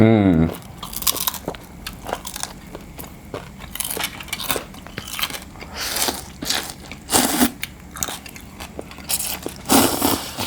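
Crispy fried pork leg in Thai papaya salad bitten and chewed close up, loud crunches repeating irregularly, with a voice talking between bites.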